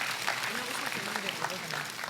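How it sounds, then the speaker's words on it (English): Audience applause for hackathon judges at a tech conference showdown, a steady dense wash of clapping from a crowd with some voices mixed underneath. "Everybody, our judges, round of applause"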